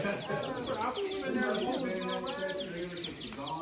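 A dense, steady chorus of high, rapid peeping from many baby chicks in a box, chirps overlapping continuously at close range.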